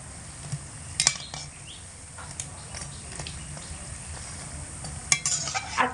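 Onions frying in a pan while being stirred continuously, a low steady sizzle with scattered scrapes and clinks of a utensil, a louder pair of scrapes near the start and end, no talking.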